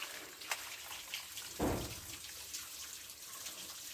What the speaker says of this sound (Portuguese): E aí nós vamos levar aqui pra escorrer, tirar a água.